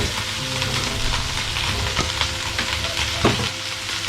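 Chopped okra frying in a pan for a curry, a loud, dense sizzle with a steady hiss and occasional stirring scrapes and knocks, no talking.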